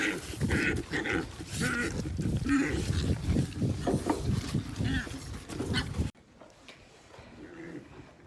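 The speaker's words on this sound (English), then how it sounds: "So the last thing I do is I feed the show pigs." Three show pigs at feeding time on a farm in the evening, a dense close jumble of grunts and squeals with trough noise that runs loud for about six seconds before dropping to a quieter background.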